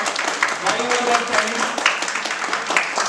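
A crowd at a school or civic gathering claps steadily throughout, dense even applause at moderate volume with no clear pauses.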